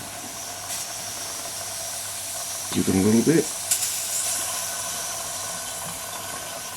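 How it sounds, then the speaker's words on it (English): A Jensen 55 Deluxe toy steam engine on live steam gives off a constant hiss throughout, with a short burst of rapid chuffing in the middle and a sharper hiss after it. A brief spoken remark comes over the hiss. "So this is up to steam."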